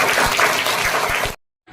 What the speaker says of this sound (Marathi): सगळ्या मुलांचं परत एकदा कौतुक जोरदार टाळ्या